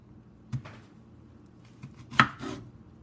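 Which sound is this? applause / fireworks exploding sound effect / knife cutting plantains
knife cutting plantains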